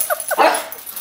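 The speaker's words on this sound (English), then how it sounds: "Riley, you're barking." A dog gives two quick high yips followed by a single louder bark, close and brief.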